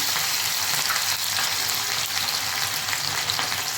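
Garlic pieces, curry leaves, chili pieces and spices fry in hot oil for a Gujarati sev and onion curry, with a loud, close, steady crackling sizzle running throughout and no talk.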